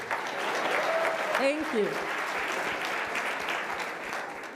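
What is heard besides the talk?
audience applause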